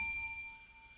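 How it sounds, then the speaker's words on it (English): A single bright bell strike rings out on a sports radio show, a clean metallic ding that decays smoothly over about a second. "Where's the bell?"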